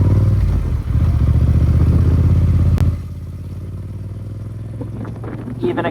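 A Yamaha MT-07 motorcycle accelerating in second gear, its engine droning loud and steady up close before the roar drops to a lower, quieter hum partway through.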